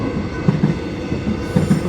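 An X'Trapolis 100 suburban train passing the Station Street level crossing in Aspendale, Victoria, heard as a steady close rumble with periodic low wheel thumps over the rail joints, no talk.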